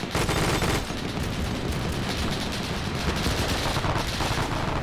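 Sustained .50 cal machine gun fire in a WW2 video game, with loud, rapid bursts crackling almost continuously and close by, and a brief lull near the start.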